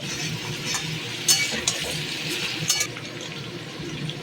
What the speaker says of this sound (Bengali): পেঁপে আলু ভাজা ভাজা করার মতো লবণ ও হলুদ দিলাম।